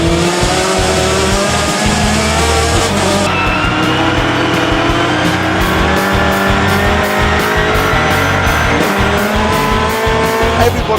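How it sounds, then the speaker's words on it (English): BTCC touring cars racing at Brands Hatch, with loud engines roaring and revving and tyres squealing as several cars pass through a corner, a continuous dense roar under race commentary. "There is Mike Epps, who could be on for his best ever finish in a touring car"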